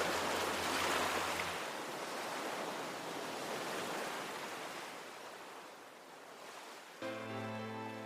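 Steady broadband wash of ocean surf breaking on a beach, rising and falling gently with no voices; a faint low hum enters near the end.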